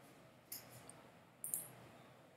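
Two computer mouse clicks, one at about half a second and another a second later, sharp and faint against a quiet room with no talking.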